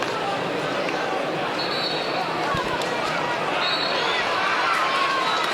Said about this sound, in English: a big crowd already in Nolan Park as the first semi-final gets underway